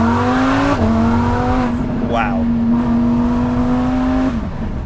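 A rally-prepped Lamborghini Huracan Sterrato with a naturally aspirated V10 accelerates hard through its gears, a loud close engine roar stepping up in pitch with brief shift dips, and a voice briefly exclaims partway through.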